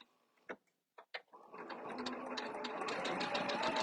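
A sewing machine stitches a tack on quilt binding: a few sharp clicks and knocks come first, then the motor starts a steady, close, buzzing run of stitches that keeps going to the end.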